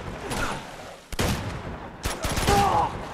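Shotgun blasts in Uncharted 2: Among Thieves, two sharp, heavy reports about a second apart, close and loud, each followed by a short scattering tail of game-combat noise.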